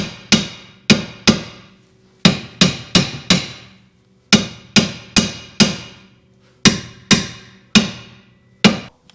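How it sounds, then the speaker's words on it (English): Sharp metallic hammer blows on a car's rear upper control arm, struck in quick bursts of three to four with short pauses between, loud and close in a garage. "I've been hammering this thing for like an hour, and I finally broke it loose"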